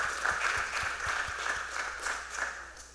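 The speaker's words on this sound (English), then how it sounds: "y'all can clap for that" Fairly quiet, scattered clapping from an audience at a youth town hall, with a few distinct claps standing out at a loose rhythm over a soft, steady room background.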